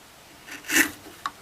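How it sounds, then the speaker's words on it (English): Wood chisel paring a lap joint down to the marked line, giving a short rasping scrape that swells and fades, followed by a quick small tap, close and clear. "now drop the chisel into the line again"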